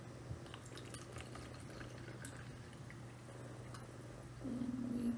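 Water poured into a measuring jug, a quiet low trickle under a steady hum, rising to a clearer filling sound near the end.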